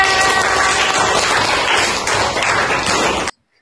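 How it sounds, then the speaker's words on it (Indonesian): A sixth-grade class claps for a classmate in a sustained burst of dense, close applause that stops abruptly at the end. "Ya, beri tepuk tangan untuk Aisyah"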